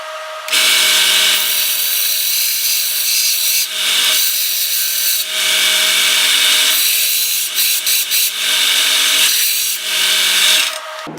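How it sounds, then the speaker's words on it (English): Large belt grinder running a 40 grit belt on a forged knife blade: loud, continuous harsh grinding in long passes with brief lifts between strokes, close and without talk. "So I'm gonna use the big belt at 40 grit here first"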